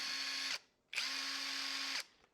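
A GoYwato budget impact driver runs in two close, loud bursts of steady high motor whir, each stopping abruptly with a short pause between.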